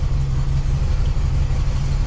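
A VW Super Beetle engine idles with a steady, deep low rumble from inside the car, the vehicle having a shimmy and vibration fault; no one speaks.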